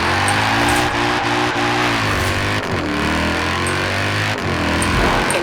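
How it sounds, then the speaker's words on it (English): Car engine exhaust note in the racing game Forza Horizon 4, loud and continuous with rising and falling revs through gear changes, heard alone without talk. "Beautiful engine noise."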